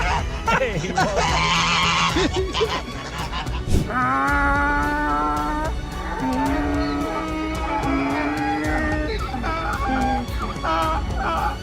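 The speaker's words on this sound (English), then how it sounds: "This goose is very happy to see this man" Repeated honking calls from a goose, loud and close, in a busy stretch of bird noise with other fowl-like cries mixed in.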